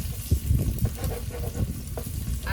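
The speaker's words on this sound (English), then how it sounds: "So while those eggs are cooking," Eggs frying in oil in a pan while breakfast is made in an RV kitchen, a steady close sizzle and crackle with irregular pops running through the whole stretch, no voices.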